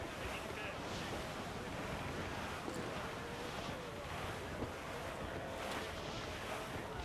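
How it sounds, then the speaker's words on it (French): A sea gust in Assassin's Creed IV Black Flag: a continuous wash of wind and surf around a sailing ship, steady and broad, with a few faint creaks and no clear talk. "Profitons de cette bourrasque!"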